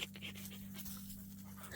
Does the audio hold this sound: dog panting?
yes